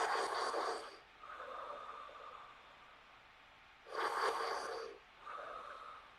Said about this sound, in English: Last 10 breaths of our first round.